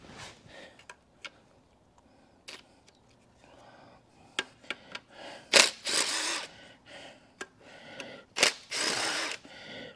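A power tool working on a Corvette transmission pan on a stand: short bursts of whirring and ratcheting, close and intermittent, growing louder and denser toward the end, with no talking.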